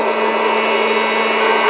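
An air popcorn popper roasting coffee beans gives off a loud, steady, close-up motorized whir and rush of hot air, with a constant tone and no pauses.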